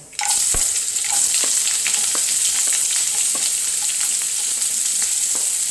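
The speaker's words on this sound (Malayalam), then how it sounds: "കടുക് കൂട്ടുമ്പോഴത്തേക്ക് നമുക്ക് സവോള ഇട്ട് കൊടുക്കാവേ" Onion frying in hot oil with mustard seeds, cooking for an onion and green chilli dish, a loud steady sizzle with scattered pops and crackles from the pan throughout and no talking.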